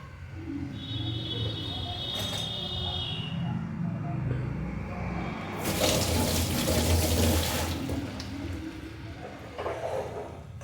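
Tap water runs over raw green mango pieces in a kitchen sink, a steady splashing stream with a louder, fuller gush midway before easing back.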